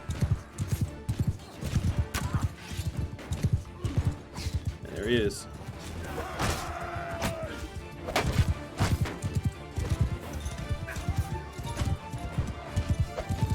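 Horse hooves clip-clop and gallop in rapid, uneven bursts during a cavalry battle in the video game Mount and Blade Bannerlord, mixed with clashes and impacts while someone talks over the action.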